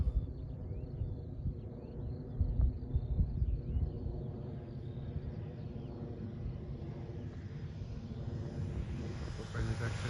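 Three-axis ultralight aircraft on its takeoff run, a steady droning engine with a rising tone as it accelerates and lifts off, heard from on board with wind noise and no speech.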